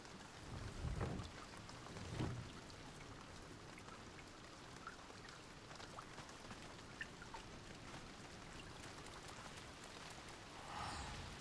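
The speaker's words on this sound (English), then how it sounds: "Can you guys hear the" Soft, steady rainfall in Final Fantasy XIV with a couple of low thunder rumbles early on, faint and distant throughout.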